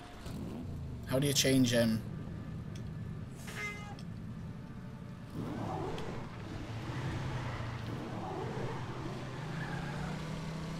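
A vehicle engine in the Warhammer 40K Eternal Crusade video game drives with a steady low rumble that swells after a few seconds. Shrill yowling cries come near the start, and people talk over it.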